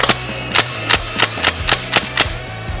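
A PPSh replica gun fires in semi-auto, roughly ten sharp, evenly spaced single shots over a few seconds, each a crisp snap with a low thump, close and loud with no talk.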